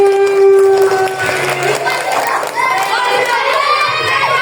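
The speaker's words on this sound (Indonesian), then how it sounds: "Tepuk tangan buat Wahyu." A group of children claps and cheers loudly at a storytelling session, with shouting voices rising over steady applause.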